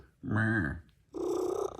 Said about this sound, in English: he's not an asthmatic 60-year-old man. He's actually a cat, feral